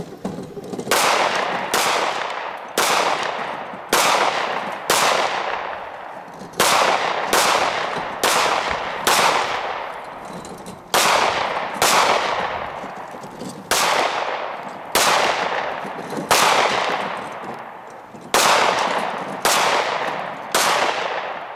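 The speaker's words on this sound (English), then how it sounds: "now we're going to do a couple live fire rounds" Live-fire pistol shots at a shooting range on moving targets at close range, loud and near, in rapid pairs and short strings with brief pauses between, each crack trailing off in echo.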